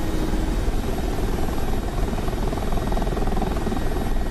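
A Mi-24P Hind attack helicopter in a flight simulator drones loud and close, its rotor chop and turbine roar steady and unbroken throughout.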